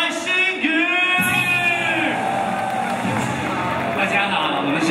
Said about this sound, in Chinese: 那接下来让我们最热情的掌声欢迎我们的白馨予